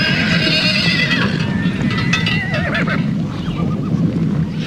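A horse lets out a loud, close whinny with wavering pitch, while hooves clip-clop steadily underneath throughout, with no voices present.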